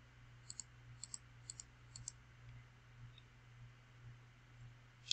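A computer mouse clicks softly in a quiet room, sounding as about five quick double-clicks at even spacing over a low steady hum, then one more click at the very end.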